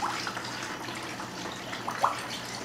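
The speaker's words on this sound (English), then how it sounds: "Fill to the top with water." Water pouring into a spray bottle for a homemade natural all-purpose cleaner, a soft steady trickle and gurgle heard close and at low volume, with no voices.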